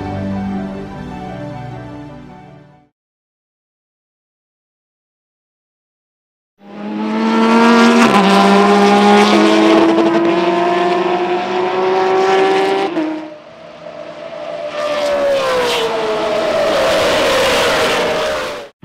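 Race cars, including a Porsche, roar past at Daytona: an engine fades out, a stretch of silence follows, then loud revving and downshifting cars scream by close up in two long passes.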